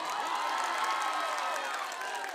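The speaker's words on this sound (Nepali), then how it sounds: "एकचोटि आफ्नै लागि जोरदार ताली बजाउनुहोस्" Crowd cheering and applause at a live Nepali music concert at the Nepal Festival in Tokyo, Japan, a dense steady roar of clapping and shouts filling the whole moment.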